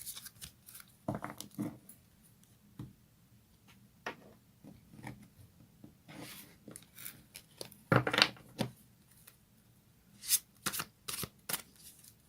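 Fairy Tarot cards being shuffled by hand in a quiet room, close soft riffling bursts and papery slaps spaced irregularly between pauses.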